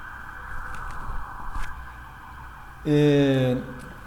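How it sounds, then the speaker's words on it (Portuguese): A passing ambulance siren sounds outdoors, a loud rising wail lasting under a second after quieter background noise and someone speaking Portuguese. "Mais uma ambulância passando aqui, espero que não esteja atrapalhando a gravação"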